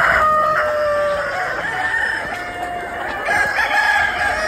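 Chickens clucking with a rooster crowing among them, a dense, busy barnyard chorus that carries on steadily throughout.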